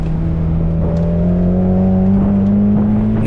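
A Mazda Miata engine drones loud and close from inside the car during an autocross run, holding a steady, buzzy note whose pitch creeps slightly upward, with no talking.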